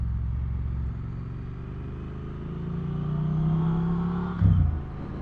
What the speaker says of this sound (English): One thing I do notice is that beautiful twin engine